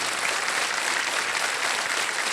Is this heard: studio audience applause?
yes